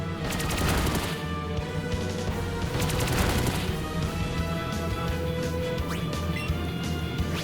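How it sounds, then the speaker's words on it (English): Jolteon attacks with Pin Missile in Pokemon Let's GO Pikachu: a rapid string of sharp crashing impacts bursts out in two clusters. A sustained game music tone runs under them the whole time, and no one talks. "Jolteon's coming at us with Pin Missile this time"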